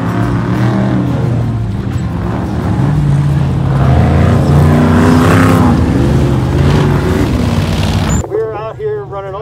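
Loud roaring engines of Ultra 4 off-road race trucks on the Rubicon Trail fill the air, revving and passing close by, ending abruptly with a brief moment of quieter sound.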